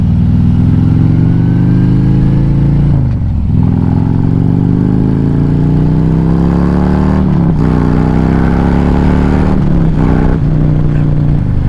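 A motorcycle fitted with a performance sleeper kit is pushed hard on the throttle, its engine note climbing steadily through the gears with short drops at each shift, loud and close with wind rush and no talk.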